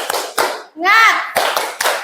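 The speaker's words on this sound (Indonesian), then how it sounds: "Tepuk semangat." Children perform a rhythmic spirit clap in an Indonesian classroom: several sharp, near, loud group claps in a patterned beat, with a short chanted shout in the middle.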